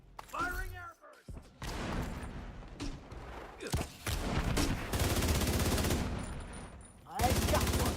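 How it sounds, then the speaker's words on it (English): Airburst weapon firing in The Division 2 video game: loud, close bursts of rapid gunfire with booming impacts, broken by brief pauses and ending in a final heavy salvo. "firing airburst"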